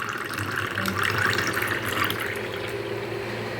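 Water pours steadily into a glass in a home kitchen, a continuous splashing stream close by that runs for the whole stretch with no talking.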